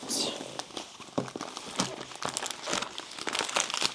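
Rolled canvas painting being unrolled and folded back, giving close crinkling and crackling rustles in bursts throughout, with a voice speaking over it.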